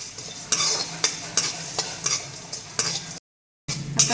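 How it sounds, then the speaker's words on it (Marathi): White sesame seeds and masala dry-roasting in a pan over low gas for a village-style mutton dish, with a steady close sizzle broken by repeated scraping stirs, then a brief gap. "खरपूस भाजून घ्यायचं आहे वास येईपर्यंत कमी गॅसवरती. आता ह्याच्यामध्ये पांढरे तीळ घालायचे आहे."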